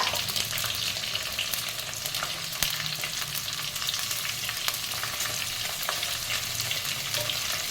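Asafoetida sizzles and fries in hot oil with a continuous crackling hiss, punctuated by faint pops and occasional stirring scrapes; close and steady throughout, no talking.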